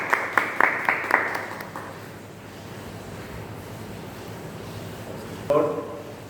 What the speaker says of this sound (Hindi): तालियों के साथ स्वागत करेंगे पास्टर डंकेश्वर साहू।